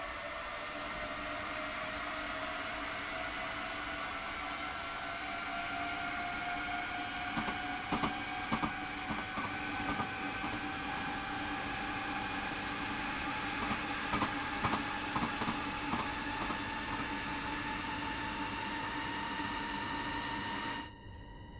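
A rapid transit train in Train Sim World 2 accelerates with a steady electric motor whine rising gradually in pitch over a constant rumble, with brief clicks midway, ending abruptly.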